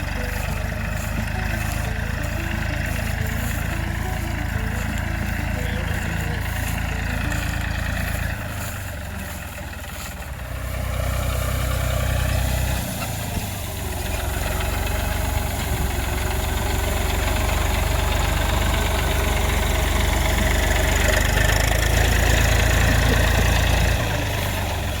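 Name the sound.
tractor engine running with straw-collecting attachment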